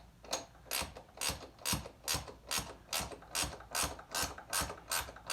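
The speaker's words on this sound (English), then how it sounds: "And lots of ratcheting." Ratchet wrench tightening the nut on a bolt-and-cushion style bar mount, producing a steady run of about a dozen rhythmic, close ratcheting clicks with no voices.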